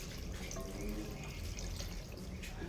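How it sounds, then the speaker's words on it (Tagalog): Coconut milk pours steadily into a cooking pot, a continuous liquid splash close by over low kitchen background noise. "Lagyan natin siya ng kalahating gata."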